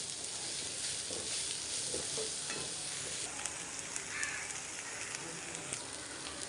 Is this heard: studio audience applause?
no